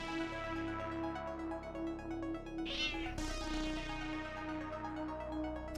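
A domestic cat meows over steady game music and sound effects from a League of Legends match, one drawn-out cry standing out near the middle against the continuous background.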